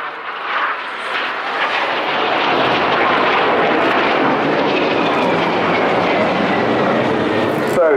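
Aerobatic display jets at the Bournemouth Air Festival 2011 roar past in a loud, sustained wash of engine noise that swells and holds as they cross close in front of the crowd.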